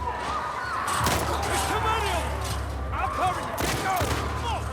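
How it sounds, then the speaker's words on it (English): Gunfire in The Last of Us Part II, with several sharp broadband shots around one and four seconds over a constant low rumble of game ambience; one blast is fired right beside the listener's ear. "Firing a gunshot close to your ear."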